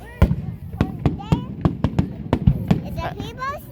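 Canada Day fireworks display in Moncton, New Brunswick, with a rapid series of sharp booms and crackling bursts at varying distances, while children talk and exclaim in the foreground.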